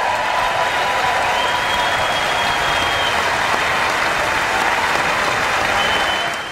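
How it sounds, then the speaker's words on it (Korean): Members of Congress applaud during the president's State of the Union address, a dense, steady roar of many hands clapping in a large chamber, continuous and loud throughout. "세 번이나 박수를 쳤거든요."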